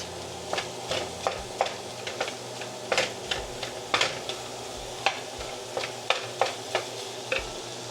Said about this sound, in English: we're just gonna crumble the ground beef until it's about halfway cooked.